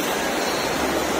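Floodwater rushes through a street in Jaipur during heavy rain, a loud, continuous roar of churning water that fills the whole moment, with no voices.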